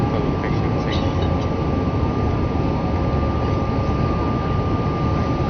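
An Airbus A319-111 takes off from Valencia with a loud, steady roar that holds level throughout, carrying a faint sustained tone.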